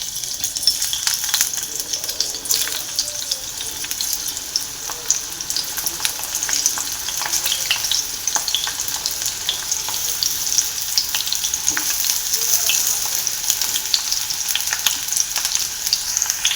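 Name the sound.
ridge gourd and brinjal frying in hot oil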